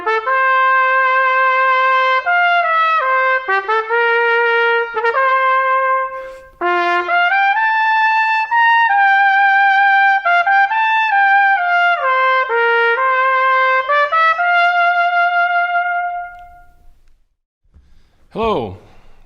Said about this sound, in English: When you put the mouthpiece into the trumpet, it sounds like this.